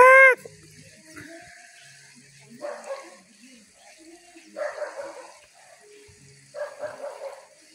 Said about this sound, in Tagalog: Kita niyo po ba yan? Mga uwak.